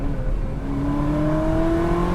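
A manual-gearbox Ferrari 360 Spider engine revs loudly and continuously, its pitch climbing steadily as the car accelerates, close and unbroken.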